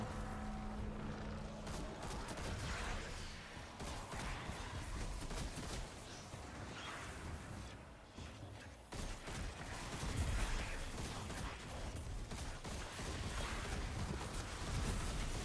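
Void scout rifle Doom of Kelkis firing in the Destiny 2 game during a Final Shape campaign fight, a steady stream of rapid gunshots and impacts mixed with game effects, loud and continuous throughout.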